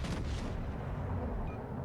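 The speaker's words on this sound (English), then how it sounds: "The other battleship is firing on me." Heavy battleship guns boom in the naval video game World of Warships Legends, a deep rumbling roar with a dull blast at the start that fades into a long low rumble.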